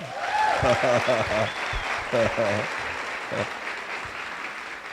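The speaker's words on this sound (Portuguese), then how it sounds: "Uma salva de palmas aí, né?" Audience applause at a poetry conference, a steady wash of clapping that runs through the whole stretch, loud at the start and easing slightly, with a voice speaking over it in short bursts.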